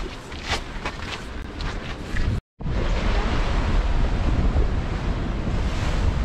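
Surf breaks on Ila Roja beach in Spain as strong wind buffets the microphone, a constant rushing roar broken by one brief dropout.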